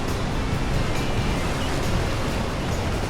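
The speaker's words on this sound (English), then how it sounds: "That's the ocean, guys." Atlantic Ocean surf at Rockaway Beach, New York, a steady broadband wash of breaking waves with some wind rumble, continuous and fairly loud with no voices.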